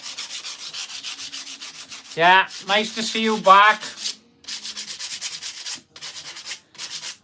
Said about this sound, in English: So we're doing the sanding now, the boring bit.